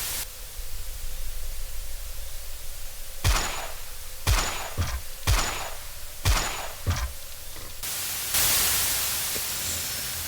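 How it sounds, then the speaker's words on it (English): Camera noises in the horror video game Never Ending Nightmare: a series of sharp shutter-like clicks and thumps spaced irregularly over a constant static hiss, ending in a louder burst of noise. "Why camera noises, though?"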